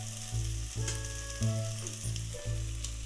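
Spices, salt, dried fenugreek leaves and coriander leaves being stirred in a hot frying pan for potato curry, a steady close sizzle with rhythmic scraping strokes of the spoon roughly every half second, no talking.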